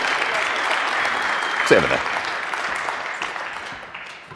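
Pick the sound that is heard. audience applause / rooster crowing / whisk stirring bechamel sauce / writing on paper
audience applause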